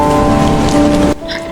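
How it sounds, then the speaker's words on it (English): Rain falls in a steady, loud wash that cuts off abruptly near the end, leaving a quieter, softer patter. "satisfying rain."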